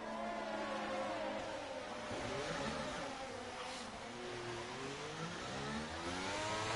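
Race car engines in a racing video game, a steady mid-pitched whir that rises and falls as the cars rev and shift, running continuously at moderate level with no talk.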